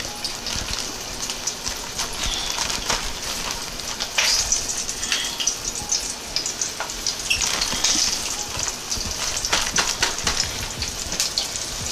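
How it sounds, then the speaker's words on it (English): Flour-dredged chicken frying in hot oil, a loud, continuous crackling sizzle with bursts of popping and spattering that swell and recede throughout. "let's put the first one in to test to see how hot the oil is. Oh, you hear that sizzling?"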